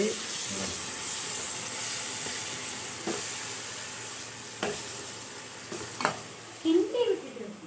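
Food frying in a pan, stirred with a ladle: a steady hiss of sizzling oil throughout, with a few soft scraping strokes and a louder clatter near the end.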